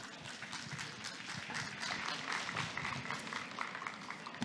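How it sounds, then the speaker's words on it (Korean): An audience in a large hall applauds to welcome a speaker at an ICT entrepreneurship education event, a dense, sustained clapping that holds steady and swells slightly midway. "박수로 모시겠습니다."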